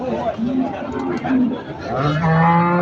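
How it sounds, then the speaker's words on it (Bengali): Cattle at the busy Chandiganj livestock market moo in low, drawn-out calls, one near and loud toward the end, amid a crowd's chatter and someone talking over it. "তো দেখতে পাচ্ছেন হাটের কিন্তু প্রচুর লোক আর প্রচুর গরু ঢুকছে সেই বিখ্যাত চান্দিগঞ্জ হাটে।"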